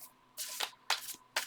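A thick, shiny tarot deck is shuffled overhand in three brisk, papery bursts separated by short pauses, close by and with no voices.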